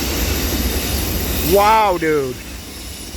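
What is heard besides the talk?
Norfolk Southern freight train passing on the tracks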